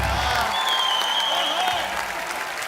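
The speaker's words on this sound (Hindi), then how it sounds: "तालियां जोरदार होनी चाहिए जरा" Studio audience applause and cheering fill the clip at a TV comedy show, with a voice speaking over it and a tonal whistle-like sound rising briefly.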